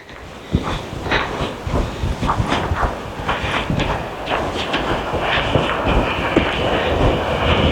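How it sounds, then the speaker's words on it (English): A locomotive rumbles past nearby with a steady metallic clatter and hiss, its rhythmic clacks growing denser as it moves by. "It's not the whole train, it's just a locomotive."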